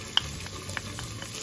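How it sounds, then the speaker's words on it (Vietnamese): Shallots, garlic, ginger and chili fry in hot oil, a steady low sizzle with a few light clinks of a utensil stirring the pan, with no talking. "vào trong đây mình phi cho nó thơm ha."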